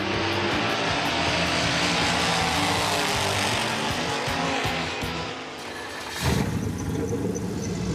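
The turbocharged engine of the Mazdarati 2 drones loudly and steadily as the car drives, dipping briefly before a sharp surge of revs near the end, with no talking.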